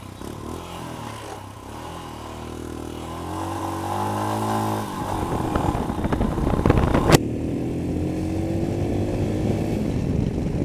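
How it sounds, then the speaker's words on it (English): A Royal Enfield Himalayan motorcycle engine idles roughly, then revs up hard several times, the pitch climbing and falling, loud and close. "A Royal Enfield that actually revs."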